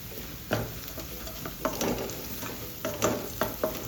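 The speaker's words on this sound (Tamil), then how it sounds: "வெங்காயம் போட்டு ஒரு ஒரு நிமிஷத்துக்கு வதங்க விடுங்க போதும் ரொம்ப வதங்க விட வேண்டாம்" Chopped onions and small pieces of dried red chilli sauté in a pan, a steady sizzle broken by repeated scraping taps of a stirring spoon, close and without speech.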